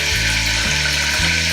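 Jeera and mustard seeds crackle and sizzle in hot oil, a steady loud frying hiss with a low hum beneath and no talking.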